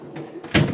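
A fitted, made-to-measure wardrobe door with a mirror panel opens with a short, close thump and rattle after a moment of soft room noise.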